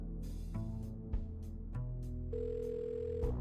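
Picking up a phone in the video game Kathy Rain 2 brings a steady telephone tone with a few clicks and shifts in pitch, close and continuous throughout the short clip.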